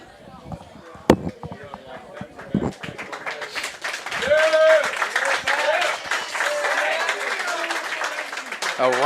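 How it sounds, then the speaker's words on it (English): Crowd applauding Matt Wagner, Lakeside's Week 7 high school football player of the week, at a live sports show from the Crows Nest; scattered clapping builds and holds, mixed with crowd noise and a few voices talking nearby. "A rousing applause for Matt Wagner out here"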